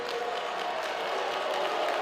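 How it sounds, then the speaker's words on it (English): Basketball arena crowd at a professional league finals game applauding and cheering in a steady, dense wash of clapping and voices, moderately loud throughout. "The crowd really getting into it now"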